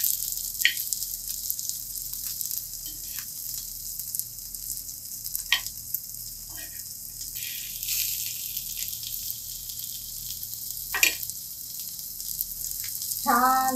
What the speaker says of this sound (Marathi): आता एक बाजू भाजून झाली की आपण दुसरी बाजू परतून घेऊया, दुसऱ्या बाजू सुद्धा भाजून घेऊया.